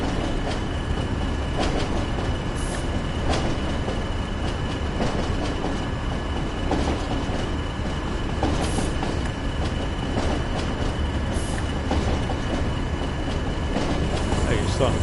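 Train in the video game Train Sim World picking up speed, a steady, loud rumble of rail noise and rolling wheels running throughout with faint clicks and squeals.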